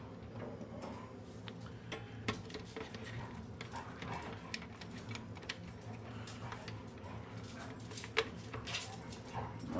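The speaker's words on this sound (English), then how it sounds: "My dogs are in the background fighting right now." Two dogs, a four-year-old Labrador and a three-year-old pointer mix, scuffle and whimper in the background of a workspace, faint and continuous, with scattered ticking clicks throughout.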